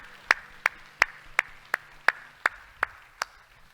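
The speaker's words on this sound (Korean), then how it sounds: "우리 하나님께 영광을 박수합시다." Sharp, evenly spaced claps from a church congregation at a Korean worship service, about nine in steady rhythm, fairly close with a faint background hum and no talking.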